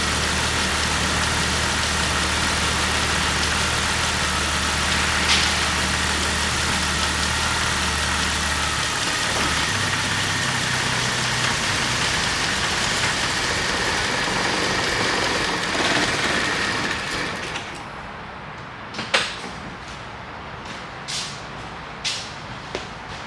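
A Jeep Wrangler 4.0L engine with low fuel pressure idles with a steady mid-low drone, then dies away about two-thirds through, leaving near quiet with a few faint clicks.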